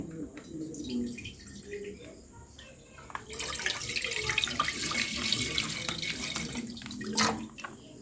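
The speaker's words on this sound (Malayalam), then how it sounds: "ഞാനൊരു പാത്രത്തിലോട്ട് ഈ പാലൊന്ന് ഒഴിച്ചു കൊടുക്കുവാണേ" Milk poured from a container into a cooking pot for mango pudding, a continuous close liquid stream that grows louder and splashier midway, with some voice in the background.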